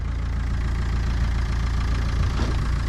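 The engine of a scrap Ford Transit van idles in limp mode with a close, steady low rumble and a faint, even knocking pulse, running continuously with no talking.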